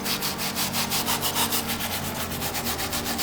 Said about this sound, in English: we're actually gonna use both wire brushes on the midsole